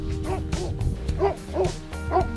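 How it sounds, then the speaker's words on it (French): A patou livestock guardian dog in the Ossau valley mountains gives a string of short, sharp warning barks, about five to six yips at a fairly steady pace, heard from a moderate distance over a steady background hum. "Des petits aboiements d'avertissement pour dire « Hop, hop, hop, là c'est le territoire des brebis, t'approches pas, mon coco. »"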